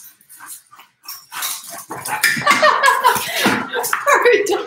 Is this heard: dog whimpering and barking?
yes